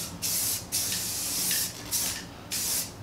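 A spray gun gives short test bursts onto a car's front lip, four or five sharp hissing sprays about half a second each, separated by brief pauses, close and fairly loud with no talking.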